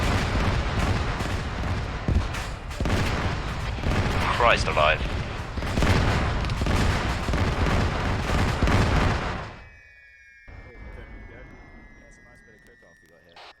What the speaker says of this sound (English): it's the damned ammo dump, man. The missiles are all going off